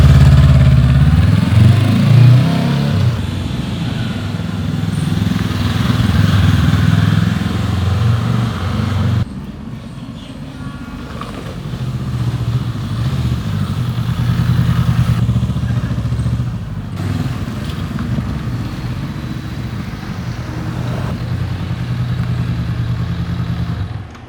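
A Honda motorcycle engine runs loud and close, holding a steady, rumbling drone that shifts slightly in pitch and intensity over time, with mechanical clatter and no voices.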